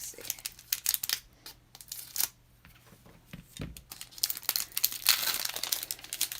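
Pokemon booster pack wrapper being opened, with bursts of close crinkling and tearing rustle scattered across the stretch, a brief low thump midway, and busier crinkling near the end.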